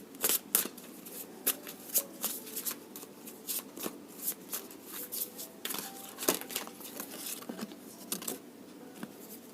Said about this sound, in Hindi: I will shuffle for one more time.